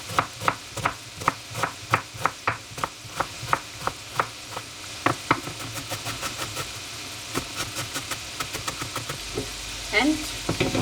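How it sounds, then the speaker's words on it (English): A knife chops onions for a moussaka sauce on a cutting board, sharp close knocks in a quick steady rhythm that runs into faster, denser cutting, with faint kitchen noise and a brief low hum near the end. "we're starting with cutting the onions"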